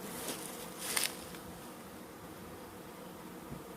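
Newly installed packaged honeybees buzz faintly around their hive, with a slightly louder swell of buzzing near the start before the sound settles into a low, steady hum.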